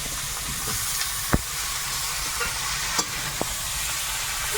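Prawns frying in a pan, a steady loud sizzle with occasional sharp pops and clicks of oil, no voices.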